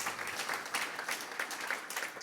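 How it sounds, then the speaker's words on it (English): Audience applause at a talk on historic user-interface failures, a dense burst of clapping from a nearby crowd with uneven swells, carrying on with no speech. "The pickle hater starts the applause"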